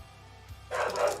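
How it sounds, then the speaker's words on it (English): A newly adopted dog lets out a sudden, loud burst of barking in the last half-second, following a quiet stretch of room noise. "New dog. Freaking out."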